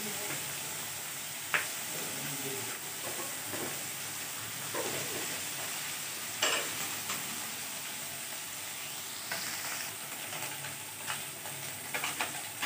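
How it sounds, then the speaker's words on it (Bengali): Mourala fish fry in oil in a pan, a soft continuous sizzle and hiss close by, broken by a few sharper spatters and utensil knocks. "মাছটা ভাজা হয়ে গেছে"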